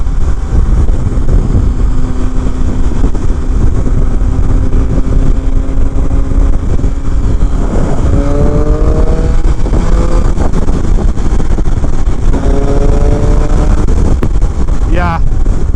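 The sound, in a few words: 2019 Triumph Speed Triple RS motorcycle engine at high RPM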